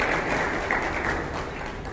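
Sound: applause and whistles at a Tata Motors showroom key handover

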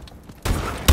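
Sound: gun firing in Call of Duty: Advanced Warfare video game

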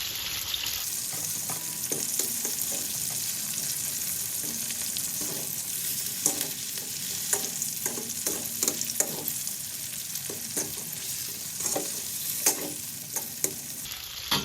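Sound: chicken with cashew nuts frying in a pan

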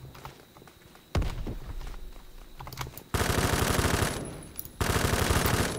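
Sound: grenade explosion and gunfire in the video game Phantom Forces

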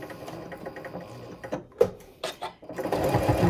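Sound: sewing machine stitching a fabric soup bowl cozy

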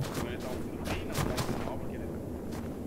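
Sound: gunfire exchange in video game

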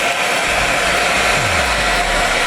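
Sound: hair dryer switched on full power

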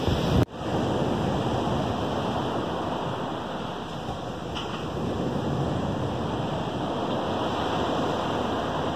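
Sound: rough sea with small waves

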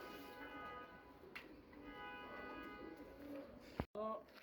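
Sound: pigeons cooing

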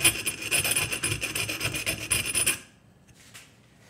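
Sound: filing a bevel on pliers jaw sides

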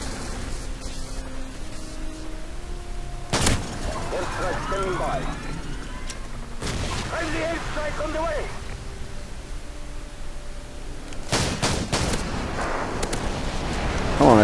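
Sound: airstrike explosions in Call of Duty 4 video game

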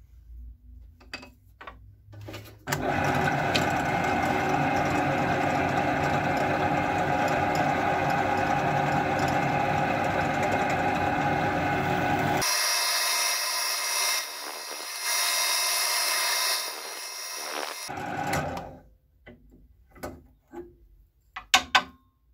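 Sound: drilling center holes in the ends of a part for a homemade lathe

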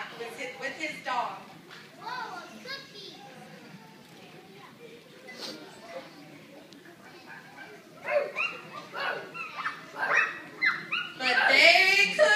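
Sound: dog barking

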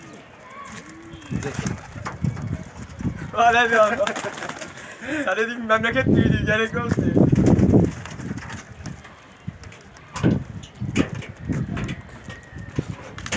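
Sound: pigeons cooing

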